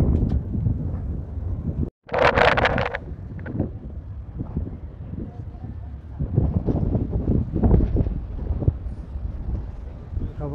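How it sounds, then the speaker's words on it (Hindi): Strong gusts ahead of a typhoon buffet a harbour walkway in Tsim Sha Tsui, Hong Kong, with heavy rumbling wind noise on the microphone, a brief dropout, and a person talking intermittently. "हवा काफ़ी तेज़ है, आप आवाज़ सुन रहे होंगे शायद, आज टाइफून आने वाला है।"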